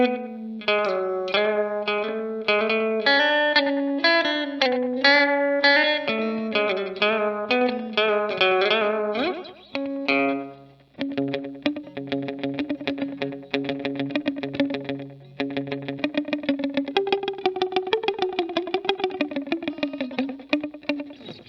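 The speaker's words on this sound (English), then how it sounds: "it's kind of a warbly delay because it has to keep happening." Electric guitar notes and chords pass through a Danelectro FAB Echo pedal's warbly slapback delay, each note echoing with a wobbling, chorus-like shimmer and slight grit.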